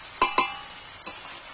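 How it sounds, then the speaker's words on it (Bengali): Chicken biryani masala with tomatoes fried and stirred in a pot, with a quiet background sizzle broken by three sharp spoon scrapes, two close together early and a softer one later, near and without talk. "এইবার আমি ভালো করে নাড়াচাড়া করে কষতে থাকবো।"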